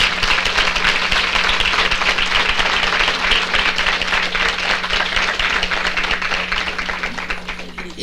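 An audience at a health-sector panel applauds medical staff, a sustained dense clapping from many hands over a faint low hum, holding steady for about eight seconds before easing slightly.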